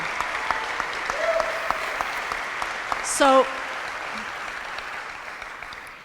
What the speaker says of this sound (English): A round of applause for these two.